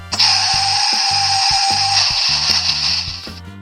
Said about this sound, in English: Car crash.